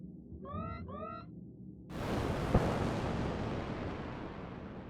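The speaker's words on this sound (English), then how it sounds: "Let's hit him with a missile." A missile launched at a ship in the space combat game In The Black, with a sudden loud whooshing roar that fades slowly, one sharp crack partway through, and a few electronic chirping tones just before.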